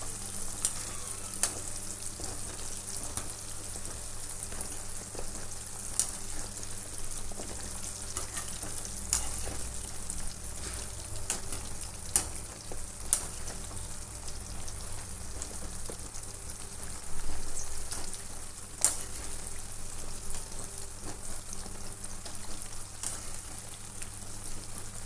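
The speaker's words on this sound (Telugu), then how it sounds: "వేరే బండి పెట్టుకొని పోపు పెట్టుకున్నామండి." Spices sizzling in hot oil in a pan as tempering for a drumstick pickle, a steady crackling hiss that runs throughout with a few sharper pops standing out, no voices.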